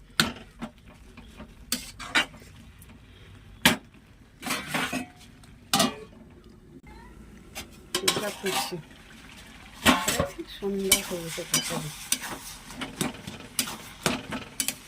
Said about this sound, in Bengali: অল্প পরিমাণ একটু জল দেবো জলটা দিয়ে আমি একটা ঢাকা দিয়ে দিচ্ছি